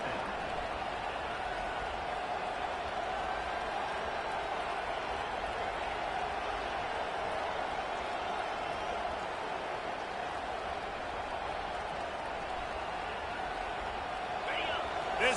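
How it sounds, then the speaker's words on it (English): Stadium crowd noise at an Oklahoma vs Ole Miss college football game, a steady dense roar that holds throughout, with a commentator talking over it. "This crowd trying to make life miserable for this offense."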